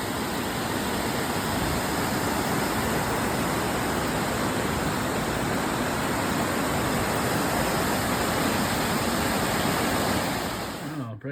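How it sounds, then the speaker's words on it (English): Waterfall along the Appalachian Trail, a steady, loud broadband rush of falling water that holds constant for about eleven seconds with no voices. "Nice waterfall."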